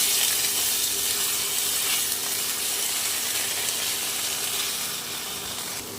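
Cumin paste and chili paste stirred together in a hot pan, giving a dense, close hissing sizzle that holds steady and then eases slightly toward the end, with no speech.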